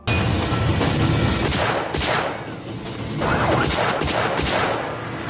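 Rapid bursts of rifle and pistol gunfire in a film scene between a police captain and soldiers, loud cracking shots in clusters with echoing tails, a brief lull midway before another volley; no speech.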